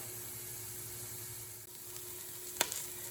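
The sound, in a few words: onions sizzling in olive oil in pan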